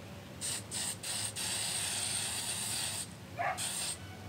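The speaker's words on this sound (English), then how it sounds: "Then we're gonna have to spray this side." An aerosol can of wood sealant hisses onto wood in a few quick bursts, then one long steady spray, followed by another short burst, close by with no talking.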